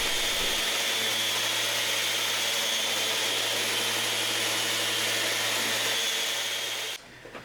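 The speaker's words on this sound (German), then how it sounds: "Es ist Zeit, ich schleife die Flächen innen." A power sander runs on the inner wooden surfaces of a chair during a build. It gives a steady, high-pitched whine at moderate volume with no breaks, then stops abruptly near the end.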